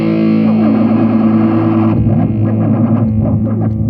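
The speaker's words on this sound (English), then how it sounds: "we get oscillating echo by the pedal section" A distorted electric guitar runs through the oscillating echo effect of a Zoom G3Xn pedal: a held chord gives way to warbling, repeating echoes that pulse rapidly and decay, loud and alone.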